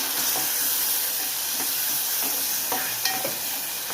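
Ginger-garlic paste, poppy seeds and masala fry in a pan for a mushroom curry, giving a steady close hiss with scattered small crackles and light stirring scrapes throughout, no voices.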